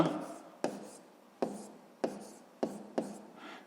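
Pen or chalk writing out a math solution, a series of about six quick scratching strokes in an irregular rhythm, close and fairly quiet.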